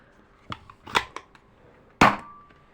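A toy cap gun fires three quick sharp cracks followed by a louder, nearer bang about a second and a half later, each snapping out of a quiet room with no voices.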